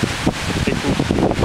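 Strong gusting wind blows outdoors and buffets the microphone with a loud, rumbling roar that surges and dips irregularly.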